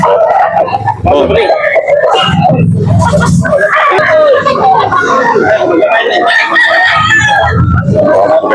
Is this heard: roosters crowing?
yes